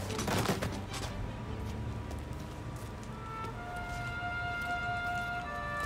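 A sharp, loud burst of gunfire opens a scene in the video game Mafia: Definitive Edition, then gives way to quieter scattered shots and steady background ambience with faint tonal hums.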